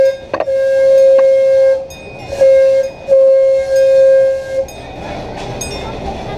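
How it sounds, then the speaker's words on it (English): A train at Adventureland amusement park sounds its horn or whistle in long, loud, steady tones that stop and start again, with the rumble of the passing train beneath and a few faint background voices. "Wave at the train, here it comes."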